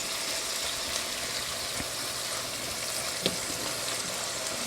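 Hamburger meat frying in a pan on high heat: a constant soft, hissing sizzle at close range, with a few faint pops and clicks now and then.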